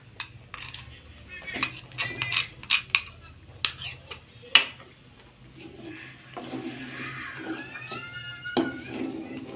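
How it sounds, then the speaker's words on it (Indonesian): A spoon scrapes and clinks in a pan while peanut sauce with salt, sugar, palm sugar and seasonings is stirred, giving irregular metallic taps and scrapes at close range, fairly quiet. "kita aduk kembali sampai mengental ya"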